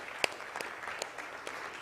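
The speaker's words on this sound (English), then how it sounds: "Let's give him a warm round of applause." Scattered claps from a conference audience at the inaugural session of a climate crisis event in Mumbai, a few sharp individual hits over a soft, faint wash of clapping.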